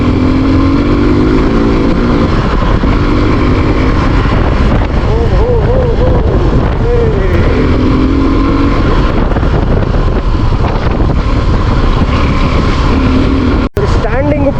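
A Suzuki V-Strom SX 250 motorcycle ridden on the road, captured from a GoPro, gives a steady engine drone and rushing wind noise throughout, with a voice talking over it.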